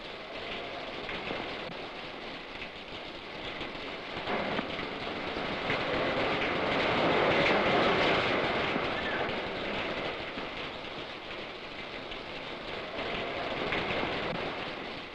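Rain falls steadily outdoors as a broad, continuous wash of hiss that swells and fades slightly, heard alone at moderate level without voices.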